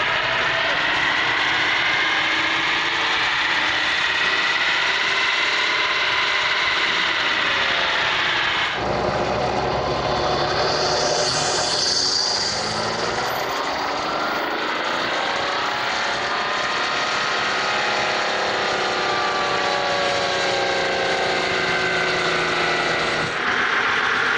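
A 2019 Ford F-150 with the 3.0L Powerstroke diesel running hard on a chassis dyno, a loud continuous engine drone climbing steadily in pitch, dropping at a shift, rising again, then cutting off near the end.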